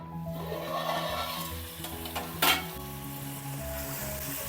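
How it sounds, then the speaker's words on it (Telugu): Chicken cooking in hot oil in a covered pot for a home-style chicken curry, giving a steady, close sizzle with a brief clatter partway through. "ఆయిల్లో చికెన్ చక్కగా మగ్గాలి"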